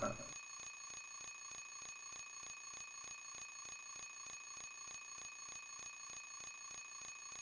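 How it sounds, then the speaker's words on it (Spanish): Alarm clock ringing in the Silent Hill 3 video game: a rapid, steady electronic beeping rhythm repeating without pause throughout, fairly faint and alone. "Ahora apagamos el despertador."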